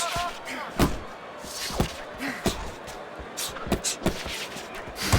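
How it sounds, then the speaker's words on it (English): Punches land with dull, sharp thuds in the Fight Night Champion boxing video game, a string of separate impacts spread irregularly across the bout while a commentator talks over them. "Accurate power punch by Crawford."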